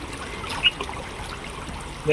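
Gentle, steady trickling of water from a small stream, faint and continuous, with a brief voice-like blip near the end.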